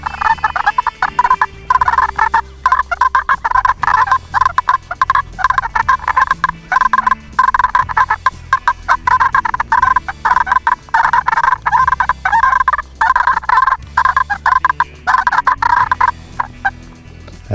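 Triple Tease turkey call imitating two toms fighting, giving loud, continuous rapid purrs and raspy rattles that run close and steady for the whole stretch, with no talk over them.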